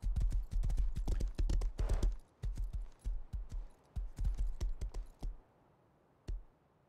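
Horse hooves clip-clop in quick, steady runs of close, sharp strikes in the video game Rust, with short pauses between bursts and a single final step, with no voices.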